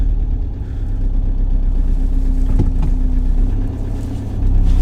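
A Ford Transit Custom van with a freshly fitted gearbox idles with the clutch pedal pressed, a steady low close engine hum with a faint knock midway and no talking.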